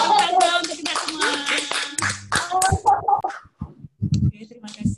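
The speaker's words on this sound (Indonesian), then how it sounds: "tepuk tangan untuk kita semua" Students at a junior high school leadership training event applaud together, with claps mixed among children's voices and shouts, fading out and then resuming in shorter bursts.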